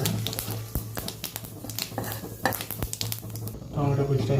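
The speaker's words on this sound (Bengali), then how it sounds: "তেলের উপর একটা শুকনো লঙ্কা আর কালো জিরে এবং গোটা জিরে দুটো দিয়ে দেবো।" Dry chilli, nigella and cumin seeds sizzle loudly in hot oil in a pan for a Bengali rui fish jhal, with a close, steady crackle broken by stirring scrapes and light clinks of utensils.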